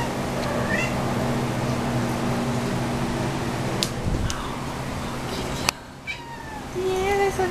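A cat meows close by, several rising calls standing out over a steady hum of a fan or air conditioner, with quiet talk in the background.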